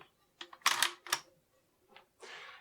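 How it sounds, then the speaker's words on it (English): Pardus SL shotgun handled up close, a few sharp metallic clicks and clacks as the bolt is locked open, separated by brief quiet gaps. "we can press that, and that'll allow us to lock the bolt open."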